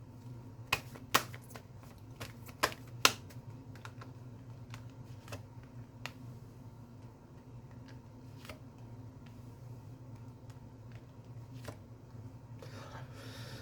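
Tarot cards being shuffled and handled, giving a few sharp close snaps and flicks early on, then soft intermittent card rustles over a quiet background hum.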